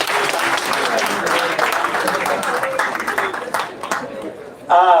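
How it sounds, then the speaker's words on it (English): Crowd clapping at an outdoor political rally in Gulu, northern Uganda, a broad wash of applause with scattered cheers and chatter, a voice speaking over it near the end. "Can we clap to the foot soldiers kindly?"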